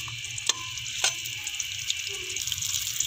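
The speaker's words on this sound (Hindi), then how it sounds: "अब हम इसके अंदर प्याज ऐड करते हैं, गोल्डन फ्राई करना है इसको" Onions sizzle in hot oil in a pan, a steady close frying hiss with a couple of light stirring clicks, with no voices over it.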